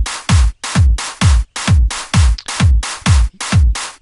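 Programmed drum pattern built in Fruity Loops 9 for an instrumental: steady, loud kick drums with bright snare and hat hits in a repeating four-on-the-floor groove, alone with no talk.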